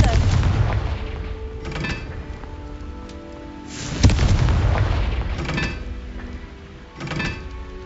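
Confringo spell blasts in the Hogwarts Legacy video game, three booming explosive bursts spaced a few seconds apart over rumbling game ambience.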